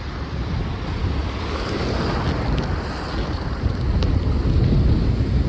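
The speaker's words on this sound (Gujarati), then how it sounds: "देखो देखो कैसे कैसे बड़े बड़े मोजा आ रहे हैं" Large ocean waves around ten feet high breaking at sea near a boat out lobster fishing, a continuous rough roar of surf and water mixed with strong wind buffeting the microphone.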